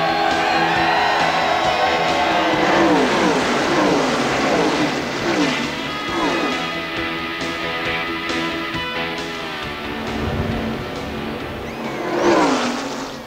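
Stock cars in the 1993 Pepsi 400 NASCAR Winston Cup race at Daytona International Speedway, a field of Chevrolets roaring past in a continuous loud drone with rising and falling engine pitch, crowd noise beneath and a louder pass near the end.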